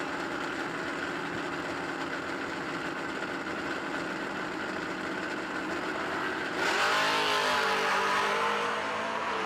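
At a no-delay drag racing event, a Mustang and a long-roof Malibu wagon idle and rumble at the line, then an engine roars up loudly in a rising rev, close and without talk.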